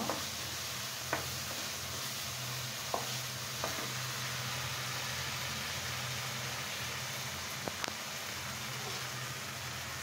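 Spice paste sizzles in a pan as it is fried down for a chicken skin bhuna, a steady quiet hiss broken by a few sharp taps of stirring.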